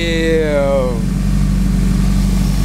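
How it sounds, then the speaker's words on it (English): A turbocharged Honda S2000 engine idles loud and close with a deep, steady rumble, its turbo spooling with a rising whine that fades in the first second. "Yeah, turbo's spooling."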